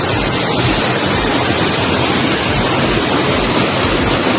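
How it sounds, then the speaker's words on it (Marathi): Heavy monsoon rain and rushing village stream water, a loud unbroken roar of dense noise that stays close and steady throughout with no talk. "अचानक पावसाने जोर केलेला आहे खूप जोराचा पाऊस आहे"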